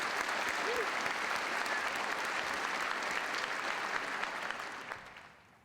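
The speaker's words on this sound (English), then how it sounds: "A round of applause." A commencement audience gives sustained applause, a dense, steady wash of many hands clapping from a large crowd that fades out at the end.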